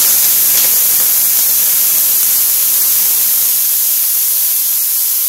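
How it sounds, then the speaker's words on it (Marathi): Water splashed onto a hot oiled tava heated over a high gas flame, producing a loud, steady hiss of sizzling steam that holds unbroken throughout, no voices. "पाण्याचा शिपका दिला आहे"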